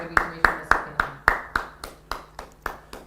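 A church congregation claps together in about ten evenly spaced, loud hand claps, a steady rhythm that fades a little toward the end.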